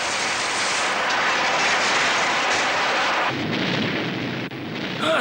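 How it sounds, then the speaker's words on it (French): The Démon Noir vehicle exploding in a cartoon, a loud, dense roaring blast that sustains and then shifts to a rumbling, crackling wash before fading slightly, with no talk. "Démon Noir vient d'exploser!"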